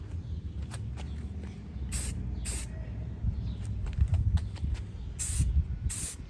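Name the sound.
spraying truck bed liner from an aerosol can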